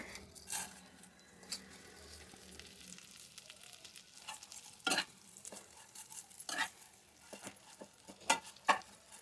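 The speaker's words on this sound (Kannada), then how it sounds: "ಇದಕ್ಕೇ ಒಂದೆರಡು ಸ್ಪೂನಷ್ಟು ತುಪ್ಪನ ಹಾಕ್ಕೊಂಡು ಮತ್ತು ಶಾವಿಗೆನ ಅದರಲ್ಲಿ ಸ್ವಲ್ಪ ಲೈಟ್ ಬ್ರೌನ್ ಆಗೋವರೆಗೂ ಹುರ್ಕೋಬೇಕಾಗತ್ತೆ" Vermicelli roasts in a couple of spoons of ghee in a pan for shavige payasa: a quiet steady sizzle with repeated scraping stir strokes and small clatters throughout.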